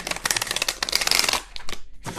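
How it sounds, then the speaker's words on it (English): A deck of tarot cards being shuffled by hand in split portions: a run of quick papery riffles and flutters, close and fairly loud, then a short pause and a final brief shuffle. "I find it really hard to shuffle this deck completely, so I have to like split it up."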